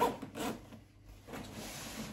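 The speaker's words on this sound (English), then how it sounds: "Before we zip that all the way up" A Goruck GR2 26L gym bag is zipped in a couple of close, raspy pulls with a brief pause between them, quiet and alone.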